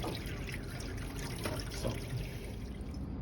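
Water runs steadily from a tap as something is rinsed out, a continuous close trickle and splash with no talk.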